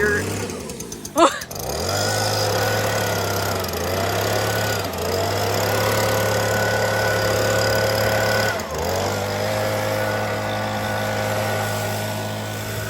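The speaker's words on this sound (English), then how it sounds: "He just cranked up a blower. He started blowing leaves." A leaf blower's small engine drones steadily and fairly close for the whole stretch after a brief startup clatter, while people talk over it.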